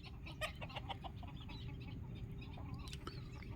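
Free-range country chickens on a small poultry farm cluck softly and intermittently over a low, steady background hum, with occasional brief wing flutters, fairly quiet and somewhat distant.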